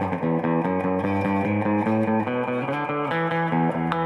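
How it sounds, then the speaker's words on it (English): Electric guitar chords ring through a Peavey Valve King 112 tube combo amp with its spring reverb set fully up, a rhythmic strummed pattern with long, washy reverb tails filling the gaps, close and fairly loud. "So it's got real spring reverb, and this is all the way up"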